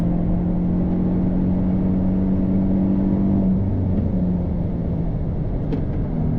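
Hyundai i20 N hatchback engine on a race track, a steady droning note that drops as the driver lifts off midway, then settles into a lower hum, close and continuous with no talking.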